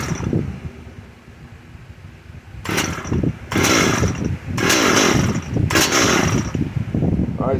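A Stihl MS 193 T chainsaw with a failed clutch idles quietly at first, then revs up in four loud, rough bursts separated by short drops back toward idle.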